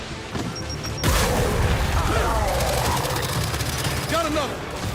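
A frag grenade blast in Gears 5 lands as a sudden loud boom that rolls into rumbling debris and scattered gunfire, with voices calling out over the combat.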